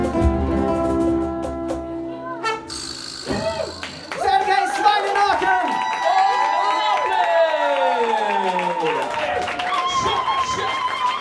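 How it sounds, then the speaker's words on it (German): A crowd claps and cheers at a live concert. The applause swells suddenly partway through and stays dense and loud, mixed with tonal sounds and voices. "Applaus."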